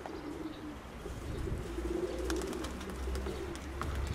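Pigeons coo softly in a low, rolling murmur, several overlapping calls close by, swelling and fading over a light background hiss, with a few faint chirps and no talking.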